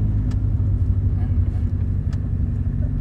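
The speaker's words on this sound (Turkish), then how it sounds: "Araba geliyor." A car approaches on a city street in Izmir, a low steady engine rumble close by, with brief clicks and faint bits of voices over it.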